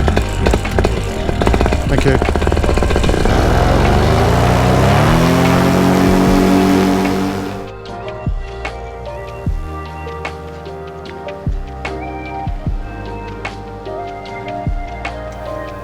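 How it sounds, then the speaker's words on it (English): Light aircraft engine at a fly-in cranks and runs with a loud, steady drone at close range, then cuts out abruptly, leaving clicks and knocks while someone speaks briefly. "Let's see if we can get my engine started."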